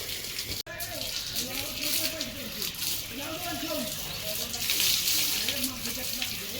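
Water runs and splashes steadily while clothes are washed by hand, with a voice talking over it throughout.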